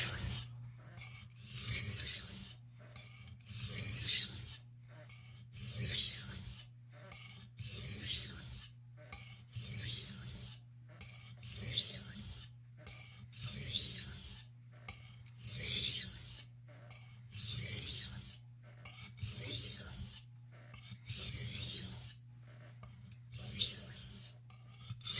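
Filing the bevel into an 8 inch carving knife: a steady series of rasping strokes, roughly one per second, close and fairly loud, each stroke a bright scraping burst over a constant low hum, with no talking.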